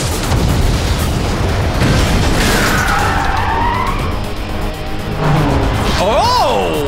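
Energy beam blast fired during an animated race between battling watch cars, a booming burst over continuous roaring engines and skidding, with high whooshing effects near the end.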